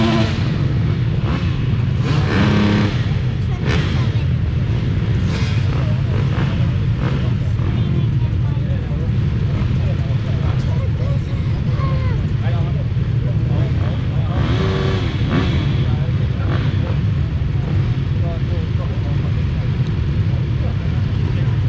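Motocross motorcycles roar together at a race start at Tallhults Motorstadion in Hagfors, a dense, continuous wall of engine noise with revving surges, loud throughout.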